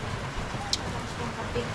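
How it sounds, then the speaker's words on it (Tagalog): Steady rain falls over a rural farm after three days of downpour, a dense, even hiss that stays close and constant throughout with no clear breaks. "Eh, Diyos ko, 3 araw na itong ulan."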